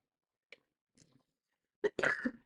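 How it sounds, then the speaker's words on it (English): After a few faint small noises, a sharp sputtering burst mixes a sneeze and a cough, close by, with a short voiced tail. "that was kind of like a half sneeze, half cough"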